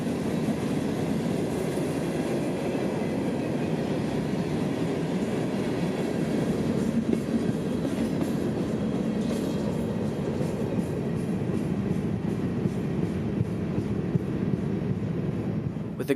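Freight train L729, hauling almost 200 rock cars, rolls past in a long, steady rumble with faint rhythmic wheel clatter and occasional metallic squeal, loud and continuous throughout.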